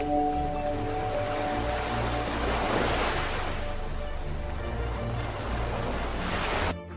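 Ocean surf on a beach in Bali roars as a continuous, loud wash of breaking waves, then cuts off abruptly at the very end.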